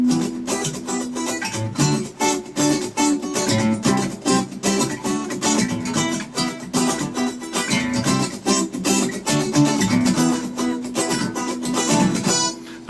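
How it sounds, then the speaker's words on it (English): Close, steady guitar strumming pattern played at full speed with percussive muted strokes between the chords, a dense rhythmic chop that runs for several bars without any voice. "let's take a look at how this pattern will sound with the muting effects"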